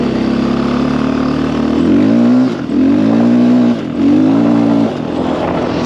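A KTM EXC 530 dual sport motorcycle accelerates hard, its engine loud and close, rising in pitch through repeated revving pulls with brief drops between gear changes.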